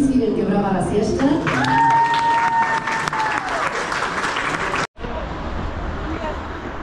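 Audience applause at a coffee and tea fair in Poland, a dense steady clapping crowd with babble and cheering, filling the first five seconds before a brief cut and a quieter crowd murmur afterward.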